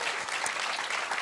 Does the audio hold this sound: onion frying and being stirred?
no